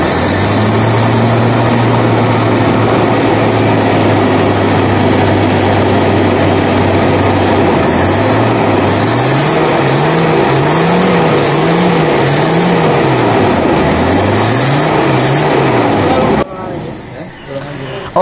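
A Daihatsu Feroza carburetor engine runs at idle nearby, steady at first and then rising and falling in repeated revs as the idle is adjusted.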